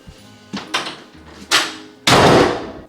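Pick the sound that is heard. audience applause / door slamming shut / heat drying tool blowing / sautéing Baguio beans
door slamming shut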